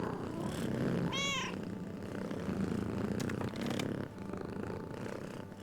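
Cat purring in the video game Book of Hours, a close, steady rumbling purr throughout with a short meow near the start.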